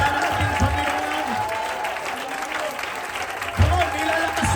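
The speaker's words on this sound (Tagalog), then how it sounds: "bigyan po natin ng maingay na palakpak na may kasamang hiyaw" Church congregation at a service in Muntinlupa breaking into loud, sustained applause with some cheering, steady throughout and swelling again near the end.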